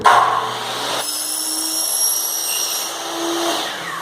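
A power saw cuts straight through an aluminium window frame profile, with a short loud bite at the start followed by a steady high whine as the blade spins on, nearby and with no speech.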